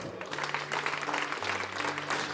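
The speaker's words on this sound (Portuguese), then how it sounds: "Aplauda ao Senhor." A church congregation applauds, dense continuous clapping from many hands at moderate distance, with a sustained organ or keyboard tone beneath.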